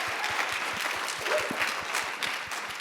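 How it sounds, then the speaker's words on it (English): Audience applause at a university diversity forum honoring two artists, a steady wash of clapping from a moderately distant crowd, sustained evenly throughout. "Let's give them another round of applause"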